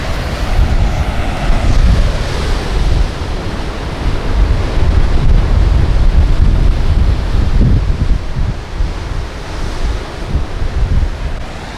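Ocean waves surge and crash below a cliff on the way to the Figure 8 pools, a loud, continuous roar of surf mixed with heavy wind buffeting the microphone.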